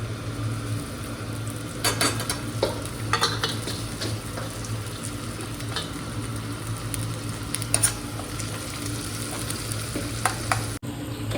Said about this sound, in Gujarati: હવે આની અંદર ડુંગળી નાખી દઈશું આપણે